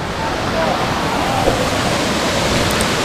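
Vaulugala waterfall, flowing at a reduced level in dry weather, gives a steady close roar of rushing water while someone talks over it.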